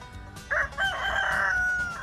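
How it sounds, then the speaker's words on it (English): A rooster in downtown Ocean Springs crows once, a clear close cock-a-doodle-doo lasting about a second over quiet background. "Carl the Rooster is the only rooster walking around downtown Ocean Springs"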